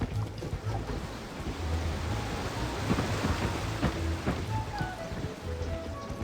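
Rain and thunder in Wizard101: steady rain pours with scattered drops and low thunder rumbling underneath, a continuous stormy wash with no voices.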